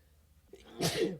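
A single sneeze, a short quiet intake followed by a sharp burst, close to the microphone in an otherwise quiet room.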